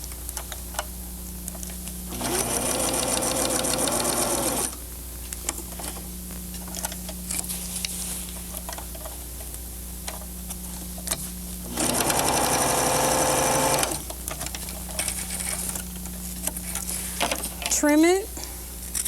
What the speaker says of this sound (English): you'll sew from the end of the extension in the seam line